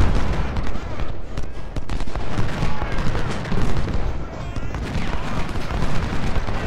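Dense, continuous musket and cannon fire from an American Civil War battle at Bayou Fourche in the strategy game Ultimate General: Civil War, a rolling fusillade of overlapping shots with occasional heavier booms, loud and unbroken throughout.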